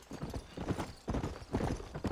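Horses trotting in the Western video game Red Dead Redemption, a close run of rhythmic hoof clip-clops in quick uneven bursts, briefly pausing before picking up again.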